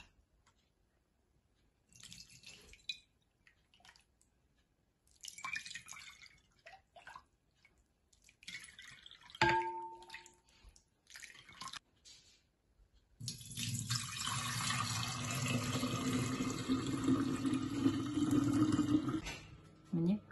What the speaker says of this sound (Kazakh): Енді сүзгіштен сүзіп аламыз.